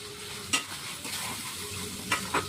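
Turmeric and Kashmiri chilli powder masala fries in a pan, making a fairly quiet, steady sizzle punctuated by a few light scraping stirs.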